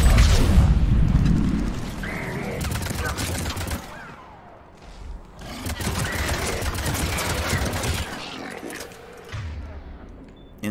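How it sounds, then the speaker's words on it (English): Cluster grenades going off in the video game Mass Effect 3, Leviathan DLC: loud, heavy bursts of booming detonations and crackling gunfire in two main waves, with brief lulls between them. "I'll use warp. Cluster grenades."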